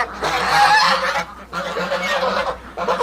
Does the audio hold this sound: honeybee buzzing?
no